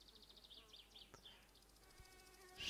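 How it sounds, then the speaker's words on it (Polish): Insect-like buzzing of flies in the driving game My Summer Car, a thin wavering drone with repeated pulses that stays steady in the background before a louder burst of noise at the end. "Jebane muchy jeszcze do tego. Nic innego poza nimi nie słychać w tej jebanej grze."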